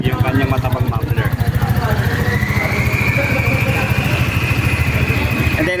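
A 2024 Rusi Sparkle 125i scooter idles steadily through its fat muffler, a close, even low putter running the whole time while someone talks over it.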